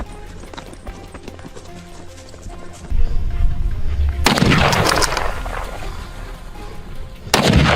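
Two sharp, loud rifle shots crack out while hunting wild boar in a pine forest, the first midway through and the second near the end, with rustling, running movement and hoof-like thuds in between.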